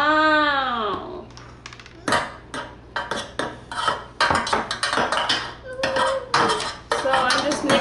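Food coloring is stirred into shaving cream in bowls, with repeated clinks and scrapes of utensils against the dishes in irregular bursts. A voice is heard in the first second, and there are occasional vocal sounds between the clatters.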